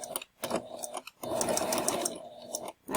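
A sewing machine back stitches fabric with the needle down and presser foot lowered, running in short, close bursts of rapid mechanical stitching separated by brief pauses.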